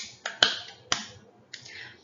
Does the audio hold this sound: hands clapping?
yes